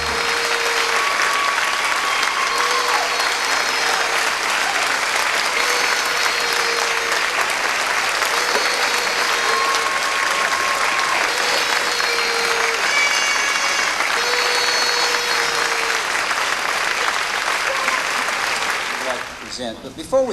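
Continuous, steady applause from an audience at a 1990 company award presentation fills the whole stretch, dense and even, with faint tonal music running underneath until it cuts off near the end.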